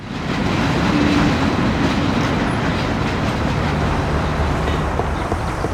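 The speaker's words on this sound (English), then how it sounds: "train," A video game train in Mafia rumbles past close by, a loud continuous roll of wheels and carriages with faint rhythmic clatter.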